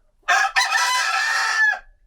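A hen in an insulated, warm hen house decked with Christmas lights gives a loud, drawn-out crowing call lasting over a second, with a brief break near the start.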